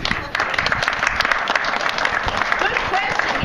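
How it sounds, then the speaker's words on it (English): An audience at a bibliodrama session breaks into a round of applause, a dense, close clatter of clapping mixed with some voices throughout. "We need to give a round of applause."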